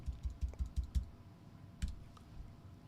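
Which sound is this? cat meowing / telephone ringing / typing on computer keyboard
typing on computer keyboard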